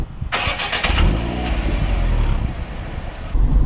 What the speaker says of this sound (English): When you start the car up, it sounds pretty meaty.